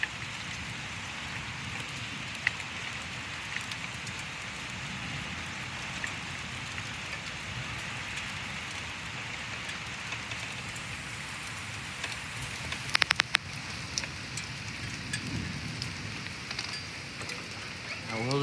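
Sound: thunderstorm with rain

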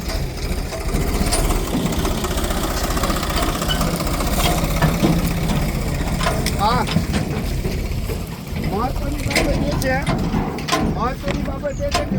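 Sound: tractor engine idling

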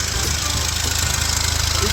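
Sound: Kia Sportage engine idling loudly while waiting at a signal

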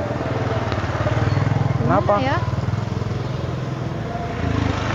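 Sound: old Honda Supra motorcycle engine

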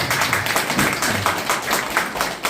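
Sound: audience applause for the county governor

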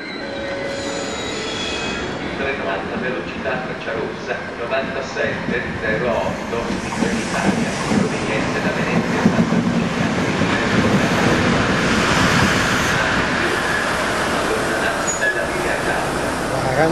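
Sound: ALn 668 diesel railcar arriving, Iveco engines

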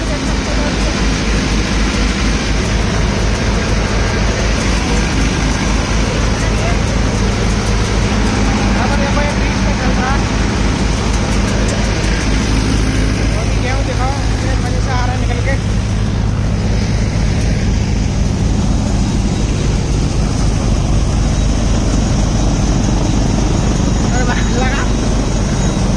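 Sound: Sonalika DI 750 thresher running

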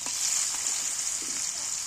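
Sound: potatoes frying with salt and turmeric

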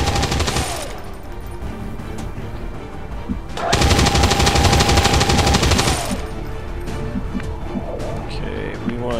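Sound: suppressing fire gunfire in video game XCOM 2

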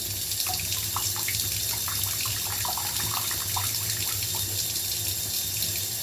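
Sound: shower water running while washing

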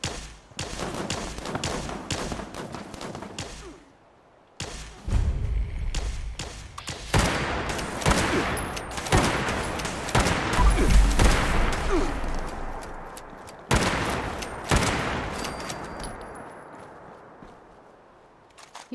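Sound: hunting rifle gunfire in video game Fallout 76

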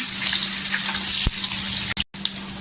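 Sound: french fries frying in hot oil

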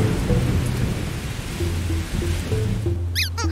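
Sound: thunderstorm with thunder and rain

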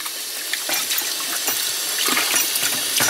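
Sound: water running from a sink tap

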